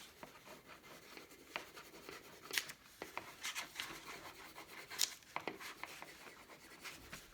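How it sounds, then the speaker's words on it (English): A brown crayon rubs on paper in a quiet, close, scratchy waxy scribble, with short strokes and brief pauses in an uneven rhythm. "I'm going to use my brown crayon again to color in my grounds"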